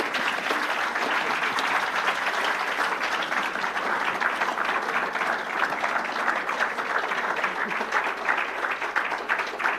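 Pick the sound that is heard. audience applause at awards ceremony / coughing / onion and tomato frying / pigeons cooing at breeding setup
audience applause at awards ceremony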